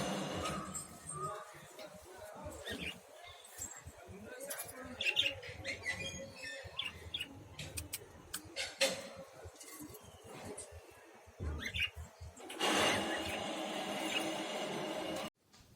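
Lovebirds in a cage chirp and tweet in a steady stream of small calls, with a louder burst of chatter near the end, fairly close by.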